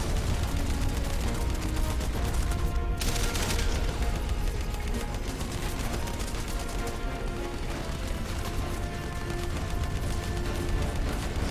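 Blind-fire gunfire in Terminator Salvation, a dense, continuous rattle of rapid shots and clattering mechanisms that runs loud and unbroken with no talking.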